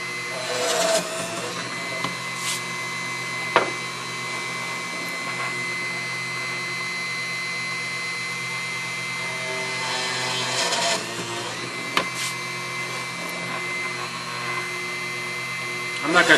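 A steady, droning power drill bores holes in wood for a scrollsaw portrait, running continuously at close range with a few sharp clicks and knocks over the whine.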